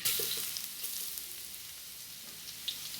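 Garlic sizzles in a hot pan with a continuous bright, hissing crackle, fairly quiet and even, with a couple of faint clinks.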